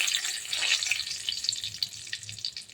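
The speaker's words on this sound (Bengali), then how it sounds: "এবার দিয়ে দেবো আমি তেজপাতা ফোড়নে" Bay leaves dropped into hot oil for tempering in a chicken curry without onion or garlic, giving a bright, continuous close sizzle that crackles unevenly throughout with no talking over it.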